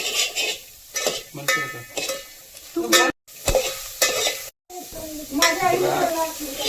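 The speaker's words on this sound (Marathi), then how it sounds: "आपण पहिले कांदा घालू. कांदा लाल पद्धतीने परतून घेऊ." Chopped onion frying in a pan for a cashew curry, a steady sizzle broken by close, repeated stirring and scraping strokes and utensil clinks, with brief dropouts in between.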